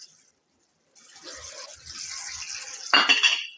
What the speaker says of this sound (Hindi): एकरा बढ़िया से मिला दै छियै